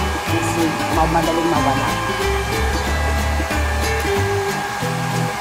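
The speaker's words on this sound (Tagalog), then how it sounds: "dry tapatan mo lang ng blower para yung mga buhol-buhol" A blower-style hair dryer pushes out a steady, loud whooshing roar while drying a freshly shampooed dog, with a voice talking over the constant airflow.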